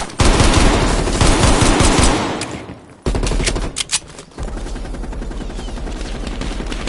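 Heavy machine gun fire in a Cold War-era shooter game, loud and sustained rapid bursts close by, pausing briefly before more rattling automatic fire resumes with scattered shots.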